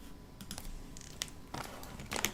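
Typing on a computer keyboard: soft, irregular keystroke clicks in short bursts with brief pauses, close by in a quiet room.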